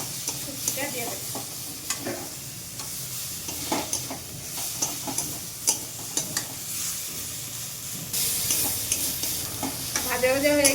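Onion, garlic and tomato fry together in a pan, a steady sizzle broken by repeated scraping and clinking of a spatula being stirred through the mixture, close and moderately loud.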